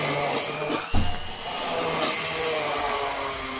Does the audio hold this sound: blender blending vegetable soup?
yes